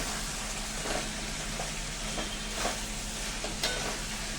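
Broad bean (val papdi) sabji with dried red chillies cooks in a pan while being stirred. A faint, steady sizzling hiss continues throughout, with only soft hints of stirring.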